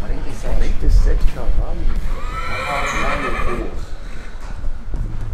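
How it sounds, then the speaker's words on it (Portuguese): Horses on a farm neigh and whinny loudly at close range, a long shrill whinny rising over the middle while hooves clip-clop and people talk over the herd. "Ah, tem muito cavalo aqui, velho. Tem quantos cavalos aqui?"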